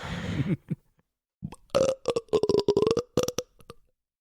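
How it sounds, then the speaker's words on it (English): A long, gurgling burp stretched out in several rough pulses after a short bit of talk, close and fairly loud. "It was a very farty burp, though"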